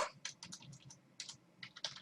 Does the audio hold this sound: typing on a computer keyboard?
yes